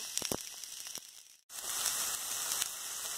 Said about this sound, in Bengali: তেল গরম হলে এর মধ্যে রসুন কুচি দিয়ে ভালো করে নেড়ে নেব